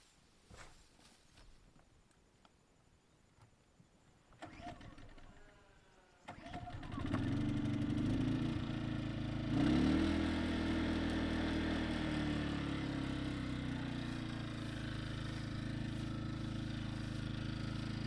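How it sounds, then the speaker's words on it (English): A portable generator used for garden work is started with a few sharp pulls and clatter, then catches and settles into a loud, steady engine drone that runs on close by to the end. "I guess I need to start the generator first"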